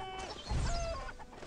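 A cartoonish hen clucks in the video game What The Hen, a few short bursts over busy game music and effects, moderately loud and close.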